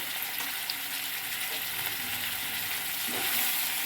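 Turmeric and salt being stirred into a frying curry of tender tamarind leaves, jackfruit seeds and drumsticks, with a steady close sizzle and soft intermittent stirring scrapes, no talk.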